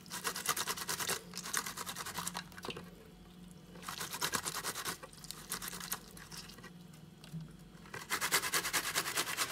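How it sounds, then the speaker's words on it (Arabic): Lemons are grated on a hand grater over split red olives being cured, producing close, crisp scraping bursts in repeated strokes with short pauses between them. "انا غادي نحك هذا الليمون هكا كامل بالحكاكه"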